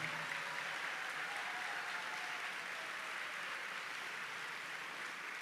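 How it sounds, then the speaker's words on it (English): A university faculty and staff convocation crowd applauds employees of the month, a steady, even wash of many hands clapping, fairly distant and soft, holding constant throughout. "Let's have a round of applause for all of our employees of the month."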